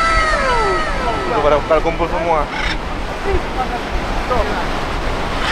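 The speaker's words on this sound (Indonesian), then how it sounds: "Ombaknya gede banget" Loud surf from big Indian Ocean waves roars steadily close by on the beach, with wind buffeting the microphone while several people talk and exclaim over it.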